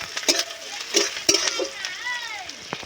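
Chopped onion frying in a pan with ginger and garlic paste, soft sizzling under a few sharp scrapes and taps of a stirring spoon against the pan, close and fairly quiet.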